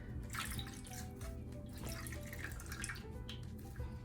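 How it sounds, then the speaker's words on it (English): A cloth dipped and squeezed in a pan of water, giving soft continuous sloshing, trickling and dripping close by, fairly quiet, with no voices. "I'm just going to get this wet over here in my pan of water"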